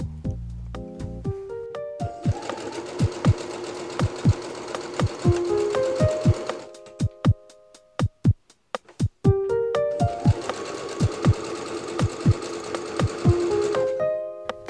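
A sewing machine stitches pairs of patchwork squares together for a bag, two long rapid-fire runs of needle clatter separated by a brief pause, loud and close with no talking.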